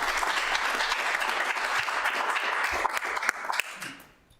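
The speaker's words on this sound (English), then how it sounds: "That deserves a round of applause because we weren't sure." An audience at a city council meeting gives a round of applause, a lively burst of many hands clapping that stays full for several seconds and then quickly fades to quiet.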